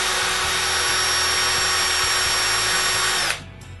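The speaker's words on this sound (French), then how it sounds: "Puis je perce les trous de vis du couvercle à la main, en faisant bien attention pour ne pas percer à travers de la planche" A power drill bores screw holes by hand into the board of a wooden cremation urn lid, a loud, steady whine held for a few seconds before stopping suddenly.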